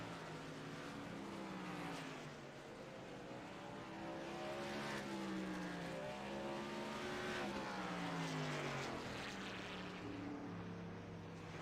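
Racing trucks in a racing video game scream around North Wilkesboro, their engine notes overlapping and rising and falling as they shift and pass, a steady, dense wall of motor whine.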